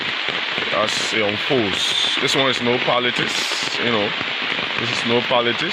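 A heavy downpour of rain in Paynesville gives a steady, dense hiss beneath a voice that speaks continuously over it.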